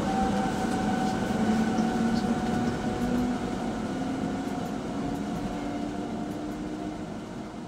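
Rhaetian Railway Glacier Express train rolling steadily across the Solis Viaduct between Chur and Tiefencastel, a continuous close rumble with a sustained tonal whine and no pauses, heard alone.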